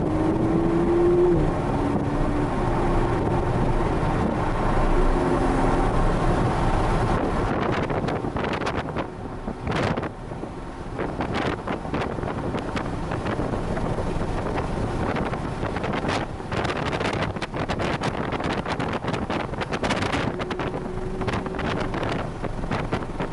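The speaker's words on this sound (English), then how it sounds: "we're gonna take it from a stop all the way up past highway speed" A Toyota GR Supra pulls away from a stop and accelerates up past highway speed, engine noise rising under heavy, continuous wind buffeting that roars throughout.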